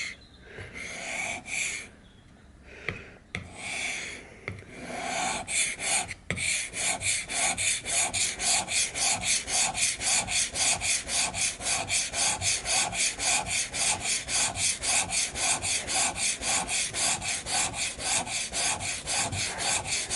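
A plane blade pushed back and forth on an oiled sharpening stone, rubbing in a fast, even rhythm of close rasping strokes after a few slower opening passes, with no talk.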